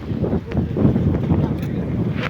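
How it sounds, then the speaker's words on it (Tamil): Strong wind buffets the microphone on a North Chennai beach, a steady loud roar with surf and a boat running nearby underneath, sustained throughout. "காற்று பயங்கரமாக அடிக்குது"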